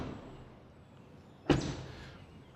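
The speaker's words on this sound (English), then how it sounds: "Door closing sounds, I think fine with both, definitely." A single solid thunk of a car door shutting on a BMW iX3 or Mercedes GLC EQ electric SUV, close and sharp, after a quiet stretch with a faint hiss before it.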